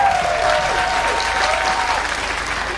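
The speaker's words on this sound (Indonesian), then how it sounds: "Boleh tepuk tangan." A large crowd of about 20,000 at a Betawi celebration bursts into sustained applause, a dense, loud wash of clapping from many hands with a faint voice threading through it.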